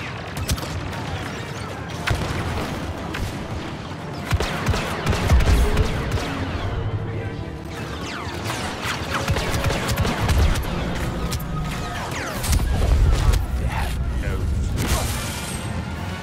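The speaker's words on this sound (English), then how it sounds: "Stop firing at the nice smuggler." Blaster fire in Star Wars Battlefront II crackles in scattered bursts over busy mechanical clatter and battle noise, with bursts of talk mixed in.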